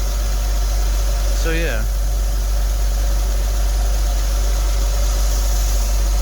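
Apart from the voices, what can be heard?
2003 Porsche Boxster engine idling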